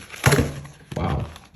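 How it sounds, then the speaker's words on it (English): A deck of tarot cards dropped during a reading, landing as two quick muffled thuds and a scattering clatter, close and fairly loud with nobody speaking. "I dropped the deck when we're about to start talking about you."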